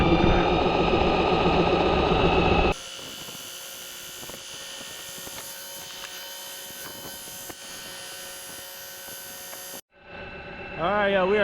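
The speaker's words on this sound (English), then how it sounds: "We got the overdrive motor running." An overdrive motor fitted to a Feelfree kayak drones steadily out on a lake, a buzzing, helicopter-like whine that holds even through the middle. Voices and louder engine noise come in at the start and end.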